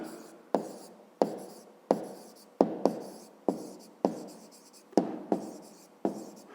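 A pen writes an answer to a fifth-grade geometry exercise by hand on paper, making about a dozen quick scratching strokes in an uneven rhythm, close and fairly quiet.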